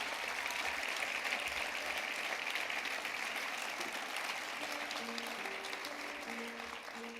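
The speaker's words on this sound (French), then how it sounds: "vous pouvez les applaudir chaleureusement" Sustained applause from a concert audience after a live performance, a steady dense wash of clapping with faint tonal notes emerging near the end.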